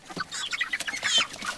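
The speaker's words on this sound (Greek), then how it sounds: "Είναι αλανιάρα κότα." Hen clucking up close in a quick, uneven run of short clucks and squawky calls, fairly loud with no talking.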